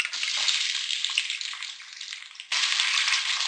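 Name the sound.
onions frying in ghee with fenugreek and red chillies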